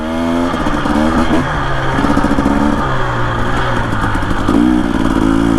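A 2025 Husqvarna TE 250 dirt bike fitted with an FMF exhaust and a fresh tune, running loud and close, its engine note rising and falling through revs with a crisp, raspy two-stroke crackle.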